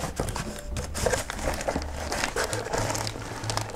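Plastic bags from a Trumpeter 1/48 scale Mi-4 helicopter model kit crinkle and rustle up close as they are handled and opened, with continuous crackly noise.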